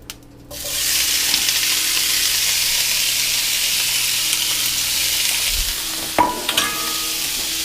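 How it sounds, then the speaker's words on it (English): Asian vegetables are stir-fried in a pan, hitting the hot oil with a loud sizzle that settles into a steady crackling hiss, then a brief clatter near the end. "Now we are stir frying, so let's add a little salt."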